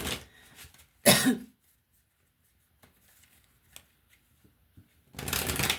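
Tarot cards are shuffled in two short riffling bursts, one near the start and another at the end, separated by near silence with faint handling noises.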